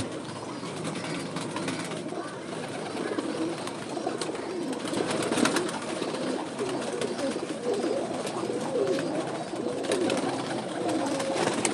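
Flying pigeons kept in a loft, cooing softly and repeatedly in a low, murmuring chorus over a steady background hum, with no voices present.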